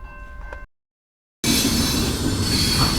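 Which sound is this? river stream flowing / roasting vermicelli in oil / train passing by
train passing by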